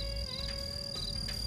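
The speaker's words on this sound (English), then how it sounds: "So this is sexual selection in crickets." Crickets chirp in a steady, high-pitched trill that holds constant at moderate volume, with faint background hum and no voices.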